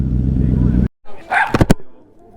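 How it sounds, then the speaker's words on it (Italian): A dog gives a quick cluster of close, sharp barks by a roadside in Italy, right after the steady drone of a sport motorcycle engine cuts off. "Questo cane che ha deciso?"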